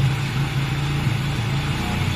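A motorcycle engine idling roughly after a kick start with a sooty spark plug, a close, steady low rumble that wavers up and down in pitch, with no voices.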